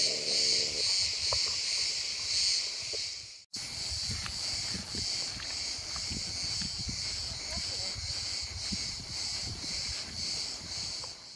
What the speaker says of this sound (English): Apart from the cicadas, of course.